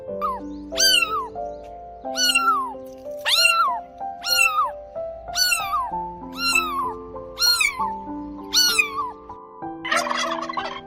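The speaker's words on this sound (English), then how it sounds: "Cat." A cat meows about eight times in a steady, evenly spaced series of clear, close calls, followed at the end by a short burst of noisier sound.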